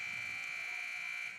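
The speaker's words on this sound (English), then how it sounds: "I love that loud buzzer noise" A loud, steady electronic buzzer drones continuously for over a second in a school gym at a middle or junior high volleyball game, then begins to fade at the end.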